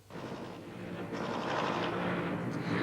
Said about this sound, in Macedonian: следуваат силни детонации и рафали од огнено оружје и снајперски истрели